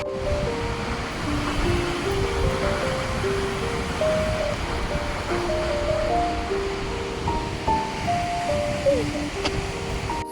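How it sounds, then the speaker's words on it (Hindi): Rushing water from a waterfall in the Munsyari hills, a steady broadband roar that fills the whole stretch, with soft melodic tones drifting above it. "सामने एक और वाटरफॉल दिख रहा है"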